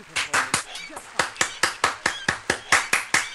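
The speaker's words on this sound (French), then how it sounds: "Merveilleux, on nous applaudit" Applause in the BattleBlock Theater game comes as a steady series of crisp, evenly spaced clap-like hits, fairly close and loud, with a little background chatter early on.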